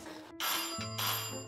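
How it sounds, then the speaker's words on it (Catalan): A doorbell rings indoors with a bright electronic chime: a few quick tonal notes, one shifting to a lower sustained pitch, close and moderately loud, with no talk. "Això és el timbre d'aquí, Albert?"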